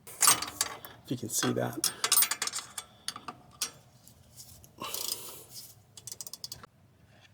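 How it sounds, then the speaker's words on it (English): A small hand ratchet on a Jeep Gladiator steering stabilizer install clicks in short bursts of dry ticking, close by, alternating with someone talking over and between the clicks. "it's got this little ratchet in here, and it's perfect for getting into tight spaces"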